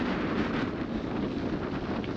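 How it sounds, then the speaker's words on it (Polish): Strong wind buffeting a microphone on a bikepacking ride along the Cairngorms Outer Loop, a steady, loud rumbling roar that persists without a break. "To konkretnie tutaj wieje."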